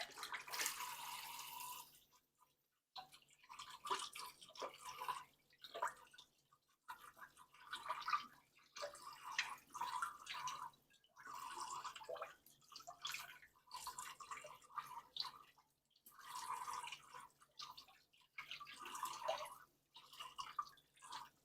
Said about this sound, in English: I've got to rinse this. Be right back. Real quick rinse.